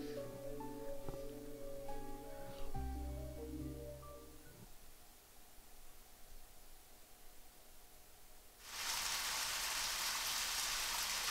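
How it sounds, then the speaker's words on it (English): Steady rain from the video game Deadly Premonition comes in abruptly and loudly as a dense, even hiss, following a stretch of music that fades into quiet. "Raining again."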